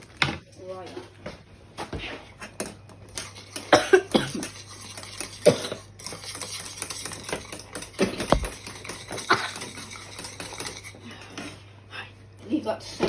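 Several people cough repeatedly in a kitchen filled with smoke from searing venison steaks, irregular bursts scattered over clattering pans and utensils, with a steady hum of a cooker hood underneath and some speech.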